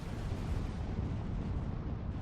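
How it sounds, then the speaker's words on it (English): Gauss cannons firing during a space battle in the Master of Orion strategy game, a dense, continuous rumble of heavy blasts and booms with no clear gaps, loud and steady throughout. "These Gauss cannons."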